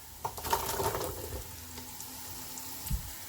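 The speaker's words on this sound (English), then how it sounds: "Now I'm going to add some carrots" Carrots tipped into a hot pan for vegetable biryani, giving a soft sizzle and a few light clatters near the start, then a low steady frying hiss with a brief knock near the end.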